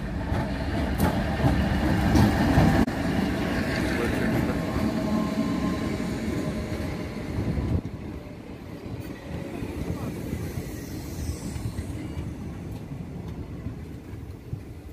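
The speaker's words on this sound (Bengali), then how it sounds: "দিব্যি ট্রেনটা আসছে।" A train rolls into Neora Nadi station near Malbazar, Jalpaiguri, on a single-track line between Siliguri and Bongaigaon, a loud continuous rumble of rail cars that eases slightly after a few seconds, with a voice speaking over it.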